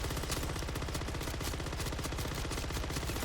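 An SMG fires nonstop in Call of Duty MW3 Zombies, a loud, dense stream of rapid shots with an even, rattling rhythm throughout.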